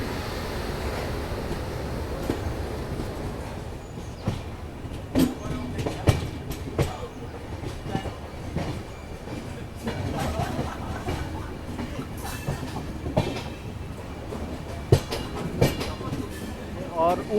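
Intercity Express passenger train running on rails between Mumbai and Pune in light drizzle, steady rumbling roll with rhythmic clickety-clack wheel beats and scattered clanks, heard from aboard and continuous throughout.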